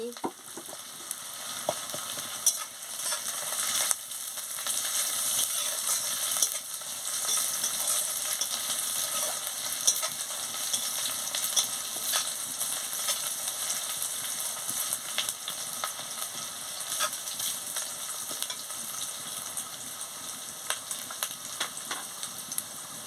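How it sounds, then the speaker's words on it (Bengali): Ginger paste fries in a pan while being stirred for a vegetable fish curry, producing a continuous close sizzle with recurring scrapes and clicks of the spoon against the pan. "আদা বাটাটা দিয়ে দিচ্ছি, দিয়ে ভালো করে ভেজে নিচ্ছি।"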